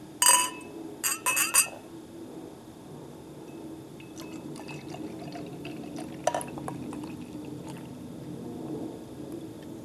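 Dark Goose Island Night Stalker beer pours and fizzes into a glass with a few clinks near the start, then a soft crackle of settling foam and small drips.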